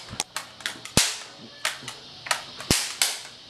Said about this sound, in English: Oh, they're firing.